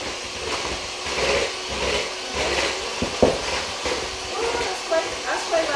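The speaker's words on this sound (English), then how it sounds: "I'm going to use now the electric mixer." An electric mixer works shortbread dough in a home kitchen, giving a steady, fairly loud whirring grind with uneven rattling and scraping throughout.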